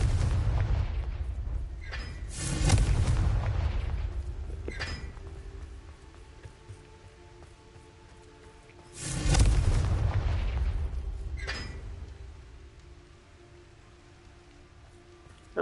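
Confringo blasting spells in Hogwarts Legacy set off two heavy booming explosions several seconds apart. Each rumbles loudly and then decays into crackling debris and a lingering hiss.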